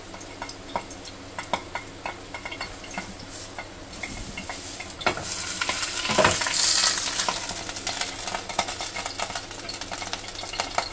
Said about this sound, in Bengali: এবার ফ্রাই প্যানে আমি কলা পাতা টুকরোগুলো যে কাটা ছিল কলা পাতাটা দিয়ে দিলাম